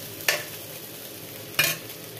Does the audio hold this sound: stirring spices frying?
yes